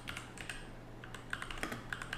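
Close, quiet computer keyboard typing as a search query is entered, a quick irregular run of light clicking keystrokes with short pauses between bursts.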